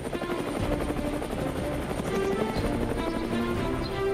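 An Indian Air Force helicopter flies over a remote drop zone in Arunachal Pradesh, its steady, loud rotor and turbine drone continuous and close with a faint blade throb throughout.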